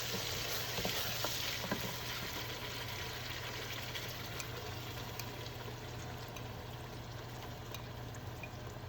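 Garlic ginger paste and a blended mixture frying with whole garam masala for aloo gosht, a steady continuous sizzle with occasional stirring scrapes, close and moderately loud, no talking.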